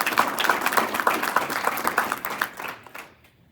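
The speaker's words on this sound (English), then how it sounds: "can we give a round of applause for the business owners that sent their" An audience gives a round of applause for business owners who supported Army service, dense clapping that builds quickly, holds steady, then thins out and fades away toward the end.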